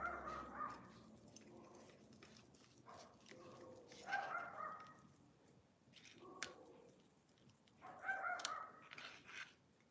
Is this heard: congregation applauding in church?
no